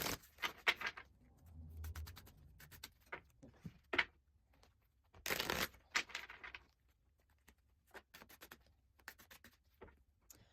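Tarot cards being shuffled by hand, with a quiet series of brief riffling and slapping bursts separated by silences, close up and soft, one louder rustling flurry partway through.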